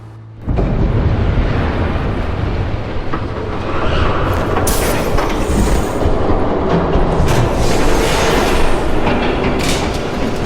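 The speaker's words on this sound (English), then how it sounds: "There's a train coming." A train thunders past in the Batman video game New World Order, a loud sustained rumble and roar that starts abruptly and holds steady with rattling bursts, no voices over it.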